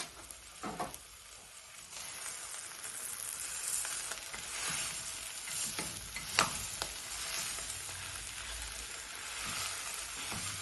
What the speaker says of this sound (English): Apparently I cook it for 10 minutes like you would normal mince.